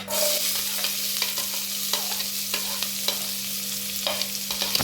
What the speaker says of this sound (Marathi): तेल घालून झाल्यानंतर ते आपलं आहे, त्याच्यात मी कांदा घालते